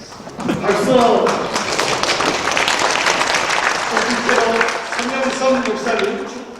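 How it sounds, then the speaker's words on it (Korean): An indoor church gathering breaks into loud applause at a groundbreaking ceremony for a mission memorial hall, clapping filling the whole stretch with speech audible over it. "박수!"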